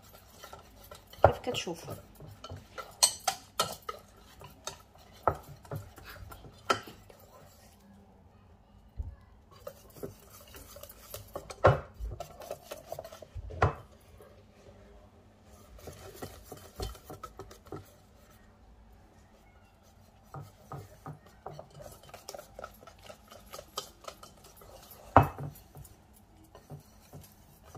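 Basbousa batter is mixed in a bowl with a utensil, giving intermittent scraping clicks and taps against the bowl at an uneven pace, close but quiet, with a few brief spoken words.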